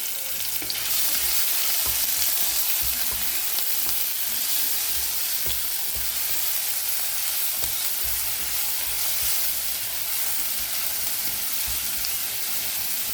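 Grated ginger frying in hot oil along with green chilli and garlic gives a continuous crackling sizzle, even and moderately loud throughout.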